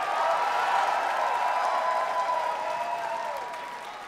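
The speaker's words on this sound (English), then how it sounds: "Please give them a round of applause." A theatre crowd at a concert at the Palace Theatre in St Paul gives loud, dense applause to the opening band, holding steady before slowly fading toward the end.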